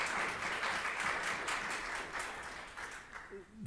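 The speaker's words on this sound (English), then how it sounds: "So I just want to give you a round of applause" Applause from the audience at a U.S. House congressional hearing on SNAP, a dense wash of clapping that holds steady for several seconds and then thins out near the end.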